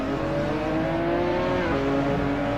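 The six-cylinder engine of a Lotus race car in a racing sim video game at Monza drones steadily with an even, buzzy tone, slightly shifting pitch, loud throughout with no talk.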